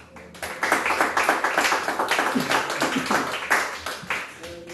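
A church congregation claps their hands at a discipleship lesson. The clapping is loud and slightly uneven, a fairly rhythmic patter of many hands that swells and stays strong for several seconds, with no talk over it.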